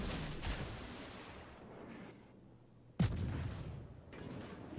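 Naval guns firing in a warship video game, two sharp booms about three seconds apart, the second louder and nearer, each trailing off in a rumbling echo with no talk.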